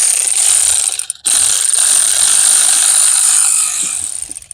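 Ratchet with long extensions turning the clamp on the lower cold-side intercooler hose of a 6.7 Powerstroke, giving rapid clicking bursts close up, broken by a short pause, then fading at the end.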